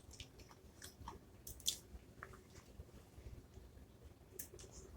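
Doritos chips are chewed in a quiet, close series of soft irregular crunches and bites, faint over low background noise, with no talking.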